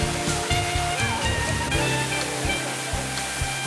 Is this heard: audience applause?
no